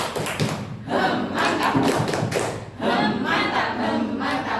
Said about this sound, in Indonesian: Beri tepuk mantap saudara ya